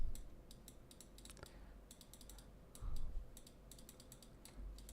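Quiet, steady typing on a computer keyboard, bursts of crisp key clicks in irregular rhythm with short pauses, close and soft against a low background hum.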